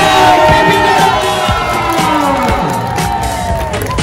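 A loud, dense crowd roars and cheers at a cosplay competition at Monsta Fiesta 2025 as the winner is announced. Whoops and children's shouts rise over a steady wash of noise, with some clapping mixed in.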